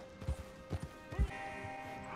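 Horse hooves in Red Dead Redemption 2 Online: a few separate clopping thuds, close and moderately loud, over a steady game background with a brief whinny-like sweep.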